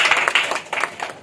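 A short burst of applause from the audience at the Hum Foundation Madhya Pradesh office-bearers' installation ceremony in Bhopal, dense clapping that rises and falls briefly.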